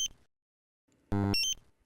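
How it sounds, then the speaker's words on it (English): A Dräger X-am 2500 portable gas detector gives its A1 alarm in a quiet room: a short electronic tone, then a brief pair of beeps. "The A1 alarm sounds if the concentration is higher than normal but doesn't yet constitute an acute hazard."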